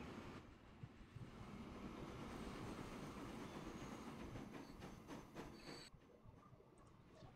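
Train running in the railway management game Transport Fever 2: a continuous rolling rumble with clattering wheel noise and faint metallic tones, steady and fairly loud for several seconds before easing slightly, no voices.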